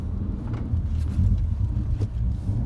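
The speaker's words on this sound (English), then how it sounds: "have a look at this car coming up. Look, it's a Mustang in it or something" A Mustang drives past at an outdoor market in Goulburn, its engine a steady low rumble throughout with a slight swell in the middle, heard fairly close with no talking.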